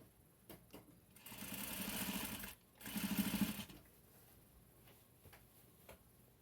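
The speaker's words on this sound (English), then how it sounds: "now we're going to sew our ruffle on that we made on our old Singer sewing" An old Singer sewing machine whirs in two short bursts of rapid mechanical stitching as it sews on a fabric ruffle, close by, with quiet ticks and clicks before and after.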